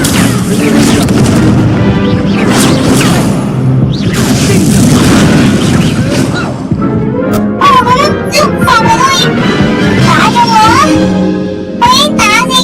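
Incendio fire spell cast in Hogwarts Legacy, booming bursts of magical fire over a dense, loud game soundtrack with layered rumbling blasts and swooshing effects, no one talking.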